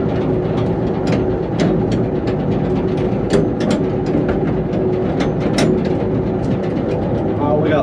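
A Gleaner A2 combine engine drones loud and close while the machine drives in gear, with rattling and clanking layered over the heavy rumble.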